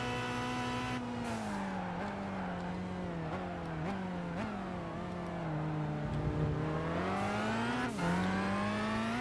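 A Nissan R390 race car in Gran Turismo 5 during a Le Mans 24 Hours test day drones loudly and continuously, its engine pitch rising and dipping through gear changes and throttle shifts, with no voices.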